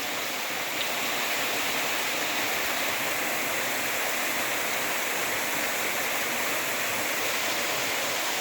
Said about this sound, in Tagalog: Ayan ang waterfalls. So napakagandang waterfalls.